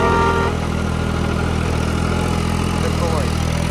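Tractor engine steadily running a super seeder clearing crop stubble in a field, a loud continuous low drone without RPM drops.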